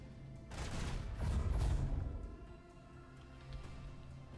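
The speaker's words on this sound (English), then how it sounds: "Well, I can use the macro cannons." Macro cannons fire during naval combat in Warhammer 40k: Rogue Trader, a heavy booming volley that swells into a rumbling roar before fading into a low hum.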